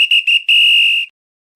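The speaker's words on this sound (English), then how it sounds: "this is the final whistle for you" A sharp, loud referee-style whistle: two quick short blasts followed by one long sustained blast, then silence.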